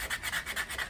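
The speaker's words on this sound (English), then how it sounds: "This is a good sanding paper" Hard sandpaper rubs against a wooden Y-branch slingshot, quick rhythmic back-and-forth rasping strokes, close and steady.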